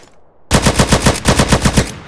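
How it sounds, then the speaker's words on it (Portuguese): Automatic AK-47 fire from a GTA game with remastered weapon sounds: a loud, close burst of about ten rapid shots in an even rhythm that starts abruptly after a brief quiet moment. "Essa daqui é a AK-47 mesmo."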